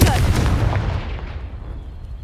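A Confringo fire spell explodes in Hogwarts Legacy on PS5: one heavy, close blast with a deep rumbling boom that fades out over about two seconds.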